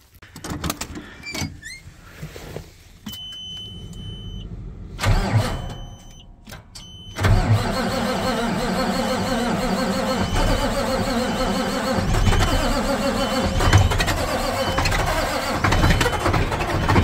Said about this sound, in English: Start the Kenworth.